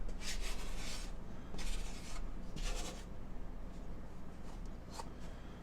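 A utensil scrapes down the sides of a mixing bowl of biscuit dough, soft rasping strokes in a loose rhythm, close and quiet with no talk.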